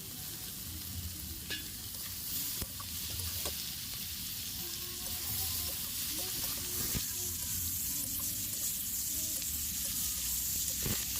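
Boiled kharkol (elephant-foot yam) stems with garlic paste frying in a pan for a village Bengali kasha dish, with a steady, close sizzle and occasional stirring scrapes throughout.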